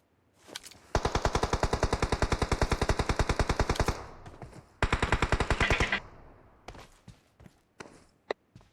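Rapid automatic gunfire rattles in a shooting video game, two long close bursts followed by a few scattered single shots and footstep-like taps.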